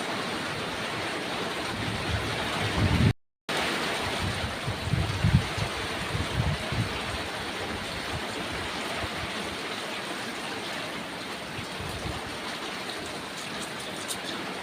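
Steady rain pours down outdoors in a downpour, a dense continuous hiss with a brief dropout near the start, and faint low thumps of movement underneath.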